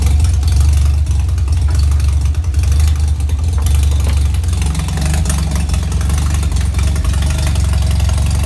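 A Mazda 13B rotary engine idles after a cold start, a steady loud low rumble with a lumpy, uneven pulse that holds constant throughout with no other sounds.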